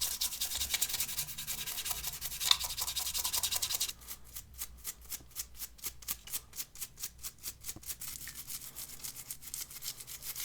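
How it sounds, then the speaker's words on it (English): A magic eraser scrubs a smoke-damaged Gameboy case: first a steady, dense rubbing hiss, then quick rhythmic back-and-forth strokes, close and fairly loud with no talking. "really pressing down and see if the magic eraser will work"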